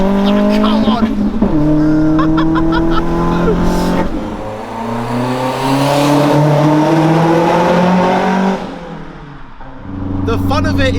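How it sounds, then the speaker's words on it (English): A turbocharged 1-litre Nissan Micra revving and pulling hard through the gears, loud rising engine notes with sharp shifts and a dip between pulls, heard close up from the cabin. "It's got a 1 litre engine and a turbo strapped to it, and it sounds like this."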